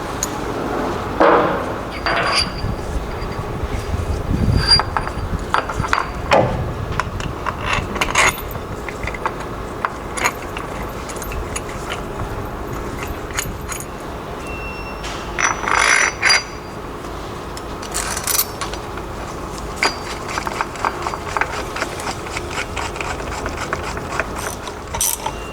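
Ratcheting and metallic clicking come from a bolt being tightened to press a bushing into a BMW E70 X5 transfer case, with irregular bursts of mechanical clanks and scrapes at close range over a long stretch.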